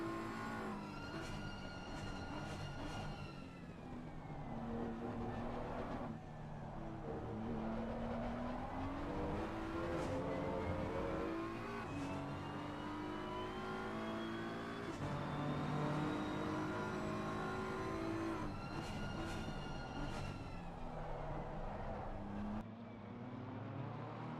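A BMW M4 GT3 race car engine in Assetto Corsa Competizione screams through rising revs and repeated gear shifts around Spa during a 2.4-hour race. The engine note is continuous and moderately loud, with its pitch climbing and dropping sharply.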